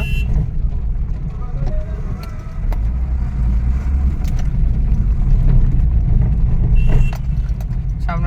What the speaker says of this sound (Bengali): গাড়ির লাইন লেগেছে টোল ট্যাক্সের জন্য